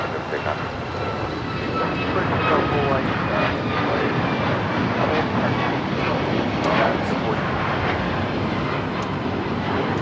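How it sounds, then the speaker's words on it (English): An Alaska Airlines Boeing 737 MAX 9 takes off at LAX, its engines a loud, steady roar that holds for the whole stretch, with a voice talking over it. "1442 taking off to Zihuatanejo on the MAX 9"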